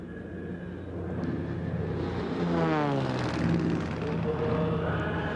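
An aerobatic airplane flown by Julie Clark at an NHRA drag racing event in 1990 roars overhead, its engine drone swelling to a loud peak and shifting pitch as it passes, over crowd and track ambience.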